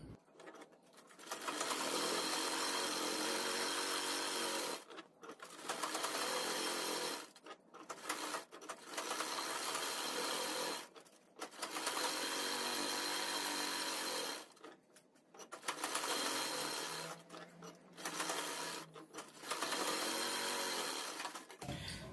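A sewing machine stitches around the edge of a fabric lining in bursts of steady, rapid whirring, stopping briefly between runs several times over the span.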